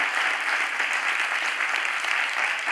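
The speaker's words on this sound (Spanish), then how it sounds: "hay que darle siempre un aplauso por estas" Sustained applause from a conference audience at a carnival inaugural event in Málaga, a dense, steady wash of many hands clapping that stays loud and even from start to finish, with no voices above it.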